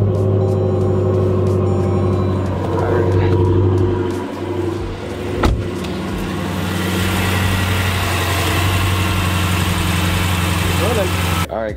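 Jeep Grand Cherokee SRT with a 6.4 liter Hemi V8 idling after a serpentine belt change, a steady loud low rumble with a faint whine, a brief blip midway, close up.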